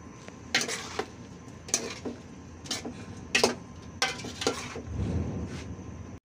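Sautéed cabbage and broccoli being stirred in a pan, a spatula clacking against the metal in separate sharp knocks over a faint sizzle that swells briefly near the end.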